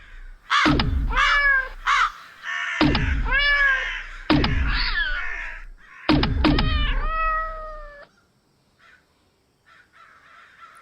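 Crows caw harshly in a radio-play crow fight, four loud, close bursts of overlapping calls and squawks in quick succession, each cluster about a second long, then fading into near silence with faint distant chatter.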